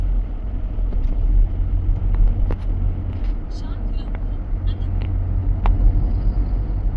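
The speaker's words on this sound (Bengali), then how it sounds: "সব গাড়ি যাচ্ছে লাইন দিয়ে।" Cars roll past in a line on a road in Arunachal, a steady low traffic rumble with faint passing swells and no clear break.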